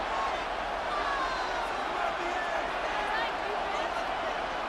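Simulated stadium crowd noise from the Madden 26 football video game, a steady, dense roar at a late-game goal-line moment, with a play-by-play announcer talking over it.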